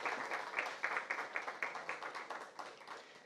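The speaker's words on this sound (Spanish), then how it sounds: "Un fuerte aplauso, por favor." An audience at a book launch claps together in quick, fairly even beats, a modest and somewhat distant round of applause with no voices over it.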